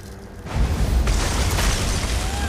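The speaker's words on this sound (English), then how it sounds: "The amulet destroyed the ice." An amulet shattering ice in the video game Elder Scrolls Online Greymoor, a sudden loud rumbling burst that swells into a sustained crackling roar.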